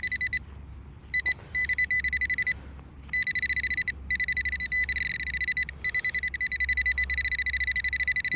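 Rapid electronic beeping from a metal detector pinpointer searching a dig hole near oak roots, close and sharp, coming in bursts broken by short gaps and then running steadily.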